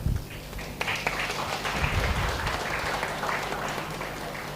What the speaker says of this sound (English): with a roaring round of applause.